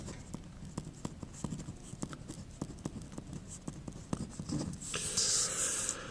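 A pen or pencil scratches across paper in quick, irregular strokes, close and quiet, with a brief louder rustle near the end.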